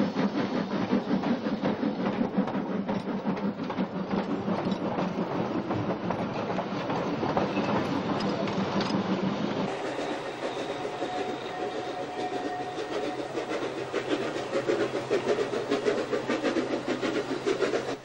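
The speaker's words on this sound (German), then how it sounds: "während ein Zug aus Bad Ischl in den Bahnhof kommt" A train on the Salzkammergut local railway rolls into St. Wolfgang station steadily, with a rumbling engine, rattling cars and rhythmic clacking of wheels on track, loud and continuous throughout.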